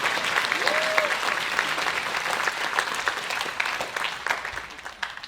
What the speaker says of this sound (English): let's applaud Jeremy and Ms. Miranda for their dedication